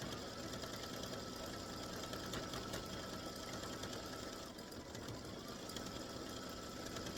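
A sewing machine works a satin-stitch applique on a patriotic baseball bat and stars quilt block, giving a faint, fast, steady mechanical whir that runs continuously without talk.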